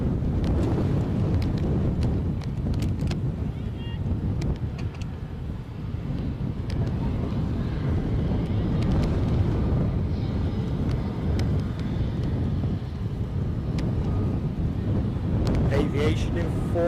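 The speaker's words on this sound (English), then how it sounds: "Wind is whipping up." Strong gusting wind buffets the microphone at Edinburgh airport, a loud, rough, continuous low rumble that swells and eases, with faint aircraft noise in the background and a voice talking at times.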